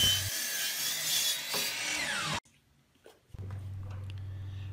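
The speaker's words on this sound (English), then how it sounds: "Now I'm going back to the miter saw to cut out both the front and the back of the box." Miter saw cutting oak boards: a loud, whining blade spins through the wood for about two seconds, winds down abruptly, pauses with faint handling sounds, then the motor hums up again.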